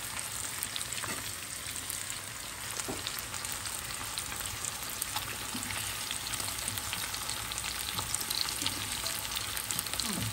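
Flounder pan-frying alongside asparagus, lightly seasoned with garlic salt, giving a steady, dense sizzle with faint crackles throughout and no talking.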